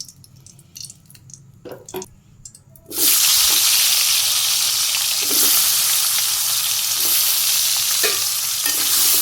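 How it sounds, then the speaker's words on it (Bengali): Potatoes dropped into hot soybean oil in a wok, a sudden loud sizzle bursting in after a few quiet seconds of kitchen sounds and holding steady with occasional stirring clinks. "কড়াই গরম হয়ে গেছে আমি আলুটাকে দিয়ে নিই"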